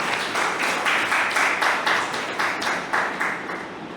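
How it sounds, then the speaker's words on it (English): Audience at a maritime history research programme's valedictory ceremony applauds a speaker to the stage, a dense wash of clapping in steady pulses that slowly fades, with no talk. "Please give him a big round of applause."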